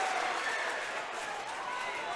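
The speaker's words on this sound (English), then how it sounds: "Eagles fans erupting right now." Eagles fans at a high school boys basketball district final roar in a steady, loud crowd cheer with a commentator talking over the noise.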